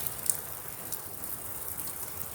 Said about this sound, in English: Rain's coming down a little bit.